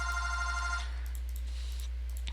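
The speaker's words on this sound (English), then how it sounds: "Please ignore the phone if you can hear that on stream" A telephone rings indoors with a bright electronic trill for under a second, then falls away to quiet room tone with faint high residual chirps; no one speaks.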